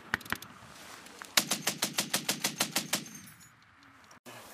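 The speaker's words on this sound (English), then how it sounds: "Heavy guns! Heavy guns! Gun one's taking it!" Heavy machine gun firing during a littoral strike training exercise: a single shot, then a steady burst of about a dozen evenly spaced rounds, sharp and close, with quieter background noise before and after.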